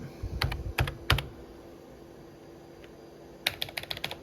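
Keys clatter on a Vendex Headstart Turbo 888 XT computer keyboard, with two short bursts of clicky keystrokes separated by a quiet pause and no talking.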